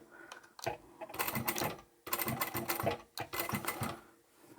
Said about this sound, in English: I'll start sewing from the top of the pocket here